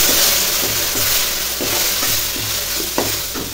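Spices stirred into sizzling oil as garlic and cumin powder go into frying lentils, a steady close hiss with scraping stir strokes throughout, no talk.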